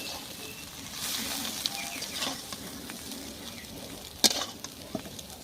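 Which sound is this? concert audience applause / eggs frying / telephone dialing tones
eggs frying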